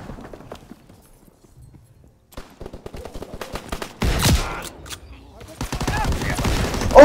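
Gunfire in the Call of Duty WW2 open beta: a few faint shots early, then loud bursts of rapid shooting and fusillade in the second half, with a voice heard briefly.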